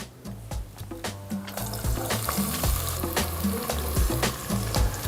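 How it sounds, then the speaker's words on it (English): Onions browning in hot oil with bay leaves and whole spices for a traditional Bangladeshi goat rezala, a steady close sizzle and fry with repeated clinks and scrapes of a spoon against the pan, no voices. "add some of your bay leaves and then start browning your onions"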